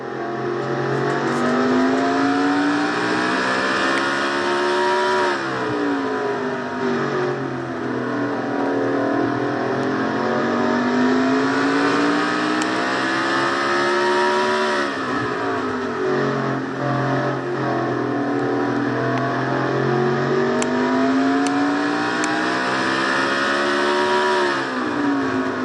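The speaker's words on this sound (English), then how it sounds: "We see how high they're revving these engines" Race car engines from the Castrol GTX Cup Series scream through a lap onboard car number 94, rising through high revs, dropping sharply at each gear change and climbing again, loud and continuous.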